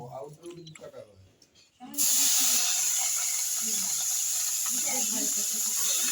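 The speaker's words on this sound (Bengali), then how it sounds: "এবার আমি চিংড়ি মাছগুলো ভেজে নেব" Prawns go into hot mustard oil in a kadai, setting off a sudden loud, steady hiss of frying that continues to the end. A voice talks before the prawns go in and faintly over the sizzle.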